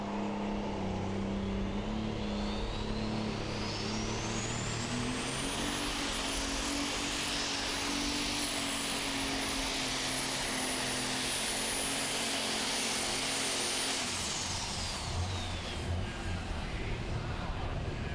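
Unlimited Super Stock pulling tractor at a Pro Pulling event in Goshen, its engine roaring loud and steady through a long pull, pitch climbing as it gains speed, holding high for several seconds, then dropping off near the end.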